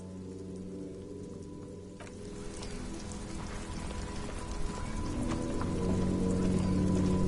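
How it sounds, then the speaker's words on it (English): Rain in the video game Disco Elysium, a steady hiss of falling drops that thickens over a few seconds, spread across the whole scene over a low ambient drone, with no voices. "It's raining again."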